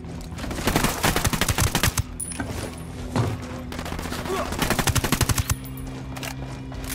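Automatic gunfire in the video game Ghost Recon Wildlands, loud rapid bursts clustered at the start and again near the end, with scattered single shots and voices between them.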